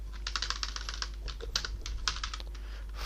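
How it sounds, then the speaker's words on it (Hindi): Computer keyboard keys clatter in quick irregular bursts as code is typed into a billing spreadsheet, close and fairly quiet, with short pauses between runs of keystrokes and no talking. "नीचे आ जाते हैं और कोड टाइप करते हैं यहाँ से"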